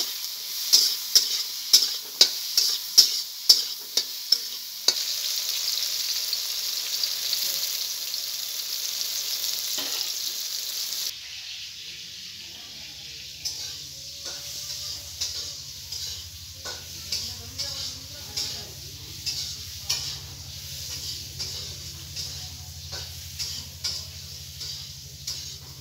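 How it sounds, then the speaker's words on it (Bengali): Pointed gourd (potol) frying in a pan with salt and turmeric, giving a steady close sizzle with clacks of a spatula stirring, sharp at first, then a softer crackle with bubbling underneath. "ভালো করে ভেজে নেব।"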